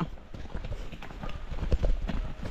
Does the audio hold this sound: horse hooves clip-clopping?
yes